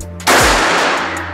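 A single sharp, loud shot from an unsilenced PCP air rifle cracks out close by, its burst lingering briefly before fading; no talking is heard.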